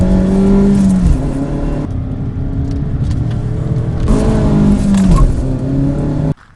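A Mazda MX-5 sports car drives through winding bends in wintry conditions, its engine note loud and close, rising and falling as it accelerates and shifts, before cutting off abruptly at the end.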